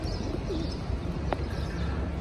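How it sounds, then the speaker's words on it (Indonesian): Pigeons coo near Masjidil Haram in Mecca in the early morning, soft repeated low coos and a few chirps heard close against a constant outdoor hum. "Serunya main burung di kota Mekah dekat Masjidil Haram."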